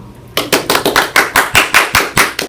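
A small group of people clapping for a guest at the close of an interview, a quick run of about ten sharp, evenly spaced claps, close and loud, with no talk.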